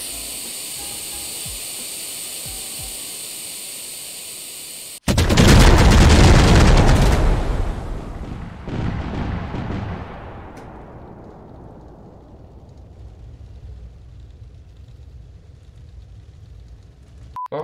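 A video game explosion of many fireworks rockets erupts after a steady hiss, giving a sudden loud boom and crackling blast that rolls into a long, fading rumbling tail.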